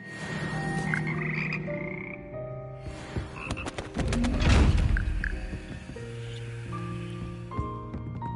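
The Frog Choir in the Hogwarts Legacy video game croaks in layered, tonal, sung notes that shift in pitch, with a brief rustling burst in the middle and no speech.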